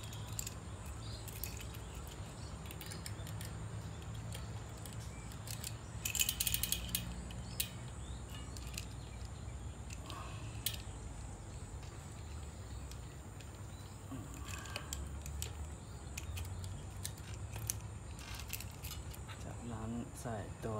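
Bicycle chain being fitted onto an 11-34 cassette with a short-cage rear derailleur: faint metallic clicks and rattles with a brief louder jangle of chain links, all running under steady spoken narration.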